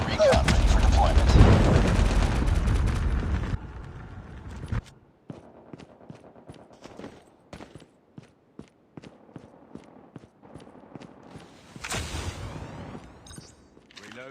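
Gunfire rattles in the Call of Duty Mobile video game, a loud dense burst of shots at first, then scattered sharp shots and quick footsteps, with in-game voice callouts mixed in.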